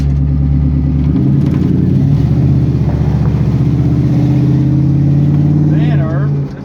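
A 1960 Chevrolet Impala with an LS engine swap idles and rumbles loudly close by, its low burbling tone steady and then wavering as the revs shift, with people talking over it.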